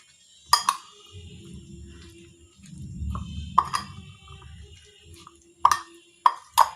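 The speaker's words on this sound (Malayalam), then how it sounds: "ഇനി നന്നായിട്ട് ഒന്ന് മിക്സ് ചെയ്തെടുക്കുക." Steamed salad of vegetables, chickpeas and green gram is stirred with homemade mayonnaise in a bowl, giving soft wet squelches and plops broken by a few sharp clinks of a spoon against the bowl.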